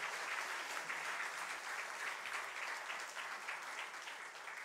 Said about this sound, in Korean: 한 번 더 뜨겁게 박수로 응원해 주시기 바랍니다